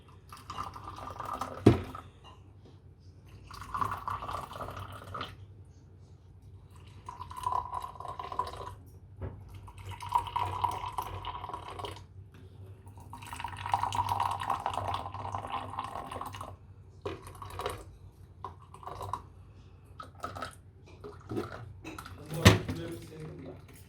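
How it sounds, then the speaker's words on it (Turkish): Tea is poured into glasses at a weekend breakfast table, with soft liquid trickles and drips alongside faint clinks. Quiet people talk on and off throughout. "hafta sonu çayımızı da dökelim"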